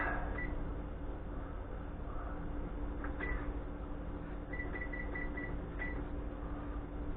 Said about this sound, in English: I'm just going to put our oven timer on.